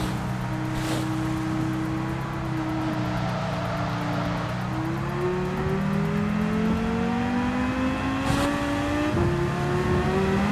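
A Tomahawk race car in Gran Turismo 7 revs steadily, its engine tone climbing and shifting through the gears in a loud, continuous whine with no talk.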